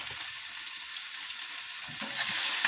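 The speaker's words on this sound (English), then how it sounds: "So we have our spinach and roasted red peppers toasting up in here." Spinach and roasted red peppers sizzle steadily in a pan of rosemary oil left from cooking steak, a close, bright, even hiss of frying with a few soft stirring bumps.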